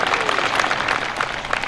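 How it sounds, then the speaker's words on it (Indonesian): An audience bursts into steady, dense applause at an evening gathering for the deputy regent, the clapping close and continuous throughout. "Tepuk tangan untuk Pak Wakil Bupati."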